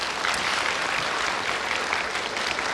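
Audience applause in a television studio during a political talk show, a dense, even roar of many clapping hands that holds steady and fairly loud throughout, with no voices breaking through.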